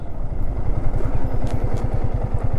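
Motorcycle engine running steadily close by, a rhythmic low thumping pulse with some mechanical clatter, heard alone without talk.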